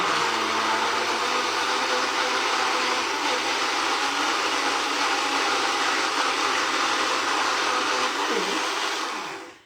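Blender running on a mix of avocado and cottage cheese, a loud steady whirring roar held for several seconds before cutting off at the end, with no talk.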